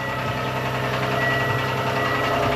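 A boat's second engine runs at a steady idle, a continuous close mechanical hum and vibration filling the space with no one talking.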